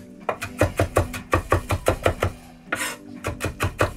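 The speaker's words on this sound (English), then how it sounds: "Chopping this until you've got a really fine mix." A knife chops piccolo tomatoes rapidly on a cutting board in quick, even strokes, pausing once for a brief scraping sound before chopping again.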